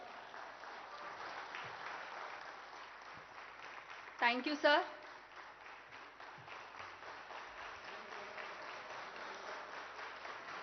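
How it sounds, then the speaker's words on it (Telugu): A hall audience at an officers' training valedictory ceremony breaks into steady applause that lasts throughout, moderately distant, while someone speaks briefly over it. "ఈ చప్పట్లు ప్రోటోకాల్ కి కాదు సార్, ప్రజల కోసం సంకల్పంతో పనిచేసే మీ నాయకత్వానికి సార్"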